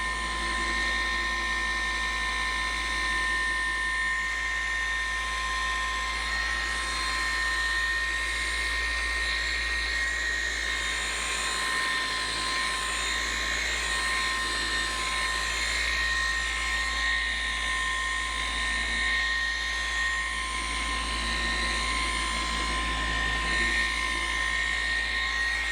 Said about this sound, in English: I'm going to polish on top of the trim and put some of it on there